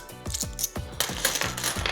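Coins drop and clink repeatedly during sorting of 2 euro coins, a quick series of bright metallic strikes and rattles in a rapid uneven rhythm, close and fairly loud, with no talking.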